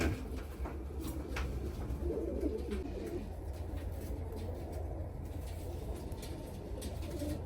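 A small pair of Japanese mango pigeons coo softly and repeatedly over a constant low background hum, the calls faint and blending into steady noise.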